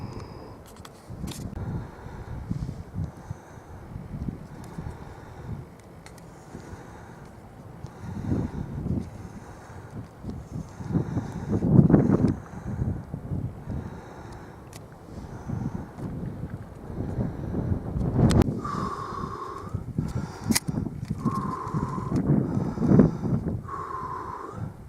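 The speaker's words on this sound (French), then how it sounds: "de temps en temps il y a du vent, alors j'espère que vous m'entendez" Gusts of wind buffet a microphone outdoors in Dunkirk, producing low rumbling thumps that swell and fade irregularly throughout, loudest in bursts near the middle and end.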